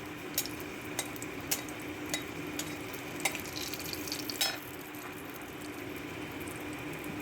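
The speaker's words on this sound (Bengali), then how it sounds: "লঙ্কাটা ভাজা হওয়া অবধি আমি একটু নেড়ে নেব।" Whole dried red chillies frying in mustard oil in a pan, a soft low sizzle under repeated light scrapes of a spatula stirring them at intervals.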